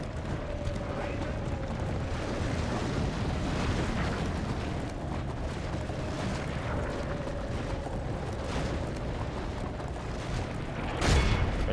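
Battle in the DaC strategy game, with a great beast unleashing fire amid explosions: a dense, continuous roar of rumbling blasts and battle noise, loud throughout, with a sharper burst near the end.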